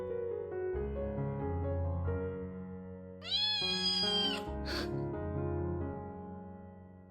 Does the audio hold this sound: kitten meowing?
yes